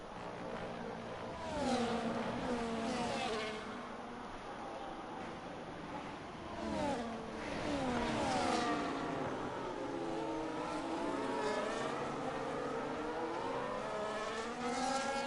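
F1 racing cars on track at the Abu Dhabi GP in F1 25, engines whining and revving continuously as several cars pass by at moderate distance, with rising and falling pitch sweeps throughout.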